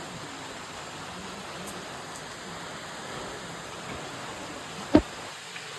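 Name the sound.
rain falling near a river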